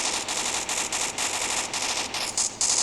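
Rapid bursts of automatic gunfire from the Free Fire video game come in quick repeated volleys, sharp and fairly loud, with short gaps between strings of shots.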